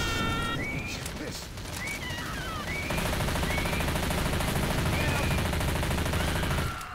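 Rapid continuous gunfire in the co-op video game Left 4 Dead 2 on the Swamp Fever campaign, a dense rattle running through the whole stretch, growing louder partway in, with voices talking over it.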